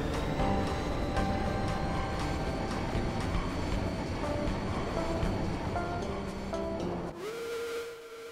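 A train departs in the video game Final Fantasy VIII, a dense rumbling rail clatter with hissing steam and a whistle-like tone, steady and loud before dropping away to a lone fading tone.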